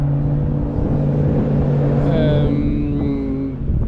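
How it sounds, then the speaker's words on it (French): A loud motor drones steadily, with a passing Dodge car's rising engine note sweeping past midway through the clip. "il y a un Dodge qui passe, ça va faire un peu de bruit."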